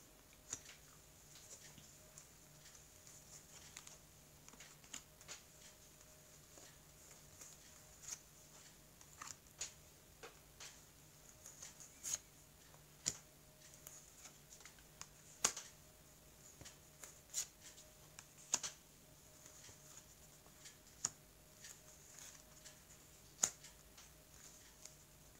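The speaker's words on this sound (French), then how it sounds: "je vais couper, puis je vais étaler les cartes" Tarot cards being cut and spread across a table, heard as quiet, sparse flicks and taps spaced out over a long stretch with no talk.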